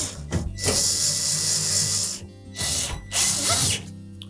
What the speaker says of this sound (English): Now we'll line up the inlet duct assembly. And we'll secure it with the screws.